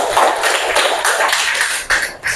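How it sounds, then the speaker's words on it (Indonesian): A classroom of students claps together in a dense, continuous burst of applause, loud and close, with no talking over it. "Tepuk tangan dong."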